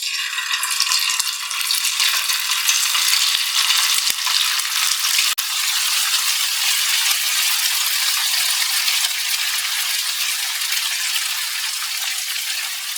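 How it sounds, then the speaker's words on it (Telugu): Chicken pieces fry in hot oil in a pan for a homemade chicken fried rice, giving a steady, loud, broadband sizzle that holds throughout, with a few soft clicks and rattles near the start and no voices. "చికెన్ ఈ విధంగా మంచి కలర్ వచ్చేలాగా మనం ఫ్రై చేసుకోవాలండి"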